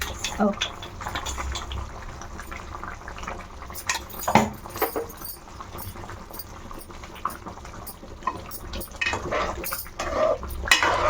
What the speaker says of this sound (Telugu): ఇప్పుడు మనకి పీతల పులుసు ఇక్కడ ఉడుకుతుంది